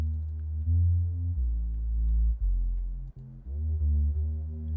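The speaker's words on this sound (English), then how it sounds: "So it sounds a lot more pure sine wave kind of" Mono synth preset with the high end cut, giving a soft, pure sine-like tone that plays a slow sequence of sustained low notes, each gliding into the next, with no voices.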